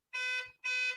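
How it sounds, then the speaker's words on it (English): Two short electronic buzzes from a door buzzer at a home, each a bright harmonic tone lasting about a third of a second, separated by a brief gap, fairly clear and without talk. "Why is there a buzzer? Someone's at my door."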